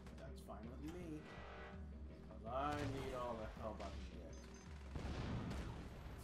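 Bursts of gunfire and explosions from The Division 2 on the Summit in hard mode, rumbling at a moderate level beneath nearly constant speech from players.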